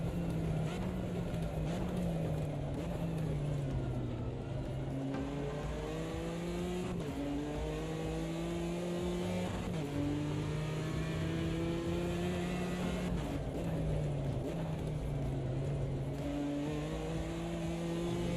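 A BMW race car engine in a sim racing game drones steadily, rising and falling in pitch through gear changes and revs, continuous and fairly close with no talk.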